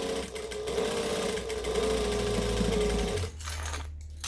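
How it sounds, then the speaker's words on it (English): A sewing machine runs steadily at joining-stitch length, stitching a bag lining and gusset for about three seconds before stopping, close and moderately loud. "I'm going to go to a joining stitch length. And then I am going to slowly stitch all the way around."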